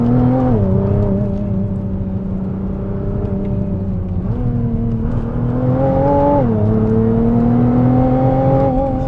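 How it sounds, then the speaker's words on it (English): A 2017 Nissan GT-R accelerating hard out of canyon turns, its engine loud and close, revving up in stepped surges with shifts as the pitch climbs, droning continuously throughout. "you can just slam on the throttle out of these turns and it just sticks to the ground"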